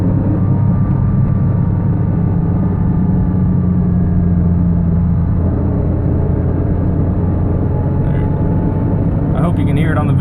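A Porsche 986 accelerating with a faulty transmission gives a steady low drivetrain rumble and droning whine from inside the car, loud and continuous, with a faint rising tone near the end.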